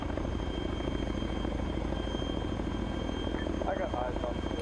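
A video game helicopter drones with a steady, rumbling rotor and engine noise that stays constant, while voices talk faintly under it near the end.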